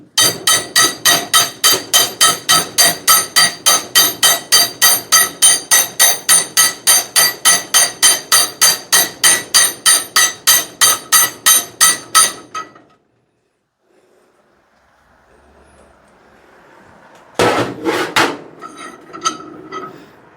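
Steady rapid hammer blows on a Prentiss No. 20 swivel jaw vise, about three strikes per second for twelve seconds, then a quiet pause before a short burst of louder metallic knocks.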